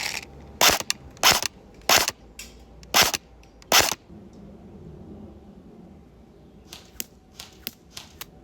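An airsoft rifle fires five sharp, loud snapping shots at a steady pace toward a target 30 meters away. After a quiet pause, several fainter, softer clicks and ticks follow.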